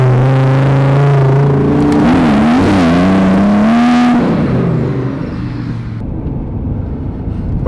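Porsche 911 GT2 RS and Lamborghini Huracan Performante racing, a loud engine drone that rises in pitch with a wavering rev and then drops away abruptly, leaving a fading rush of passing noise.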